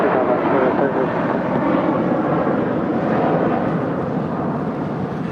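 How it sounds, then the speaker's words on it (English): Bombardier Global 6000 business jet departing from a large airport, its engines giving a steady, loud roar that holds throughout without pause. "That is a Bombardier Global 6000 departing to Montreal."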